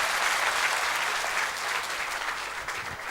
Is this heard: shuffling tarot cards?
no